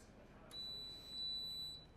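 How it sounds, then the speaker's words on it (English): Timer buzzer going off, a thin high electronic beep held for over a second, faint and alone. "Timer's done."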